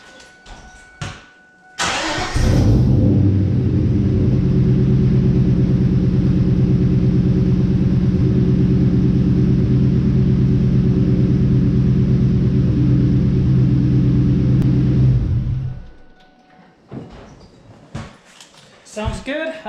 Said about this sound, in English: the last step is just to make sure that your car starts.